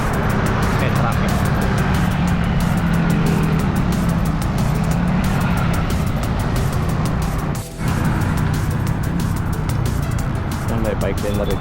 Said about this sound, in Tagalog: Ngayon, kakaunti na lang. Ayan, may traffic.